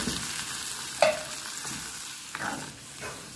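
Tomato chutney mixture is poured into hot tempering oil with curry leaves, giving a soft sizzle and frying crackle with a few stirring clinks over a few seconds.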